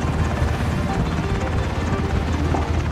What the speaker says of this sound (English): I'm first one in chopper, boy!